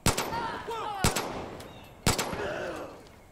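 Gunfire in the video game Far Cry 5: three sharp, loud shots spaced about a second apart, each followed by a decaying echo tail, with no talk over them.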